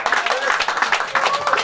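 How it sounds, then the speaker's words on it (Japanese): A live-show audience applauds the four performers of the troupe Supeaza, a dense, steady patter of many hands clapping close by with small rises and dips throughout. "スペア座の4人にもう一度皆さん大きな拍手お願いします"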